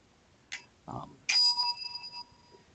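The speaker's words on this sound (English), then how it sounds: "we're watching you ding your bell" A small bell is dinged once with a bright, sustained ring that decays over about a second, preceded by a couple of brief knocks and handling sounds, fairly close and clear.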